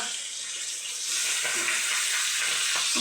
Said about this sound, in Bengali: ফুটছে।